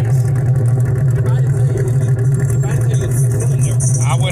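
A car's engine rumbles steadily at an outdoor car show in Durham, North Carolina, loud and close with a deep continuous drone, while people talk nearby.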